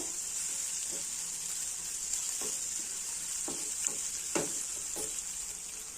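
Green chillies sizzle steadily in a pan for onion rice, with a continuous hiss broken by several distinct scraping stirs of a spoon, close and fairly loud, with no voices.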